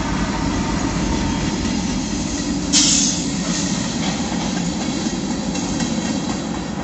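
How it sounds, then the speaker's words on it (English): A train rolls past nearby in a steady, loud rumble of railcars, with a brief sharp metallic squeal partway through and no speech. "Y'all gonna see the train coming."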